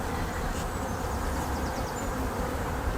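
Honey bees inside an open beehive, a dense continuous buzzing hum close by, steady and loud throughout with a few individual bees droning past.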